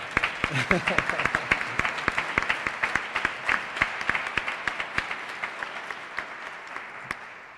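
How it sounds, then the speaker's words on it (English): Audience applause at the 2023 Kentucky Teacher of the Year ceremony, a steady crowd of claps that holds for several seconds, then thins and tapers off toward the end. "And now the governor will lead us in a round of applause."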